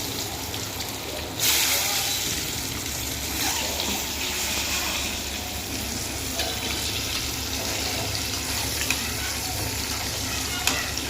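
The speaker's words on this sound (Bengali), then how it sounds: "ডিমগুলো ভেজে দিই লাল লাল করে" Eggs frying in a pan until browned, giving a loud, dense, continuous sizzle close by that holds steady throughout, with a sharp burst of crackle near the start and a few light clinks later.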